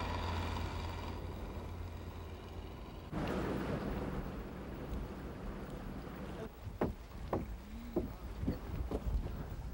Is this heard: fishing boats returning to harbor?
yes